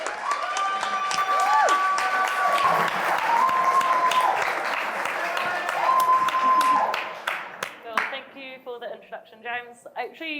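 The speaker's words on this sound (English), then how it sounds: "Round of applause, please." Audience applause at a UK sales awards ceremony, the in-person Sales Confidence Top 50 SDR and SDR Manager Awards, a dense steady roar of clapping for about eight seconds with music playing over it, fading out as a speaker begins talking.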